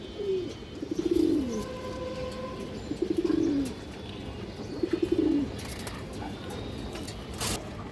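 A female Kagzi pigeon cooing close by, three or four rhythmic bursts of soft throaty coos spaced a couple of seconds apart, with faint background noise between them.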